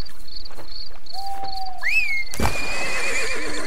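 A horse in the online game ArcheAge whinnies with a rising, wavering neigh, after light clip-clop hoofbeats and faint insect-like chirps; a sharp burst follows, then a steady ambient wash, all without talk.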